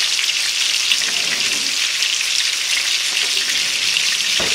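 Loud, steady sizzling of sirloin steak searing in a hot frying pan, a dense continuous crackle close up with no talking.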